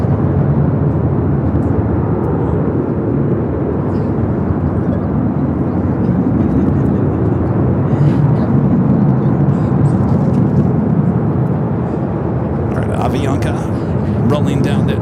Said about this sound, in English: Japan Airlines, the Dreamliner, heading back to Tokyo Narita. Heading to 25 right for a Southside takeoff.